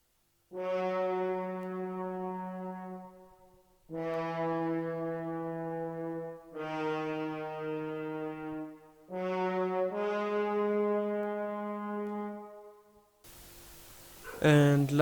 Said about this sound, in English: I also layered the horn with another horn from also from Sinful Orchestra